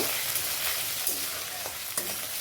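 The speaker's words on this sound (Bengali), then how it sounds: "সাদা জিরেটাকে একটু নেড়ে চেড়ে ভেজে নিচ্ছি" Whole cumin seeds frying in hot oil as they are stirred, with a dense close sizzle and a few light scraping taps from the spoon, no one speaking.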